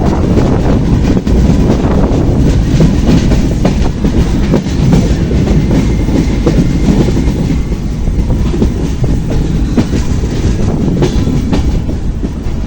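Madhumati Express passenger train runs on the rails leaving Paksey railway station near Hardinge Bridge in Ishwardi, a loud, steady, close rumble with a faint clickety-clack and wind buffeting throughout.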